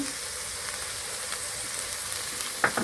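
Ginger paste goes into a hot pan already holding onion paste for an egg curry, giving a steady, even sizzling hiss. A light clink of a utensil comes near the end.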